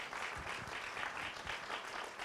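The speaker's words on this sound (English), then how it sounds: "a round of applause for the panelists" A short burst of audience applause for panelists at a UN discussion, steady moderate clapping from a seated crowd with no talk over it.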